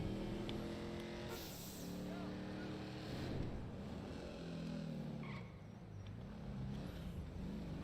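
A Trans Am muscle car driven in GTA V, engine revving up and down through shifting pitches with tyre skids and background game sounds, steady and fairly loud throughout.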